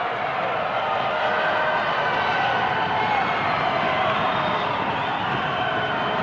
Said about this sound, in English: And the crowd on their feet cheering Strongbow